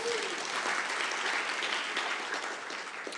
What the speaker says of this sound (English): Yes, let's clap for that one.